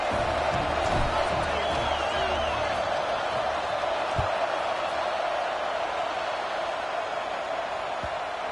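Football stadium crowd after a touchdown at a college game featuring Wisconsin, a steady broad roar of cheering rising and settling throughout, heard at a distance under a live broadcast feel.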